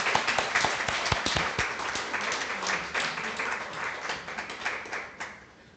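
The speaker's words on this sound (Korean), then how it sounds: "박수하면서 들어가시면 되겠습니다." Applause from a church congregation during a Sunday worship service, a steady wash of many hands clapping with a few sharper near claps, continuing for several seconds before fading slightly at the end.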